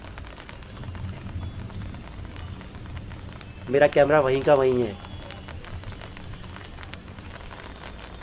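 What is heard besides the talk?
light drizzle rain falling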